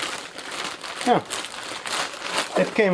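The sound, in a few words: bag crinkling while unpacking a delivery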